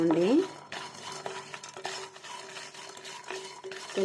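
Cumin and coriander seeds frying with roasted peanuts in a pan for stuffed bitter gourd masala curry, with a spoon scraping and stirring in repeated strokes over a light sizzle, close and moderately quiet.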